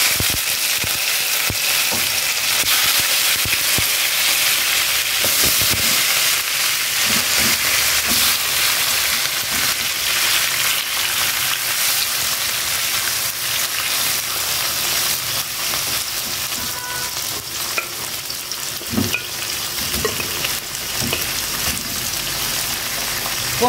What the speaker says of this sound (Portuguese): Na panela aqui, o óleo tá bem quente. Eu vou colocar as minhas asinhas.